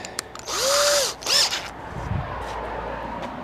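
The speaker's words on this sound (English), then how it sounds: "let's get that hole drilled" A power drill whines loudly for about half a second, pauses, then bites again in a shorter burst while boring a hole in the bodywork of a Foden truck, close by and alone.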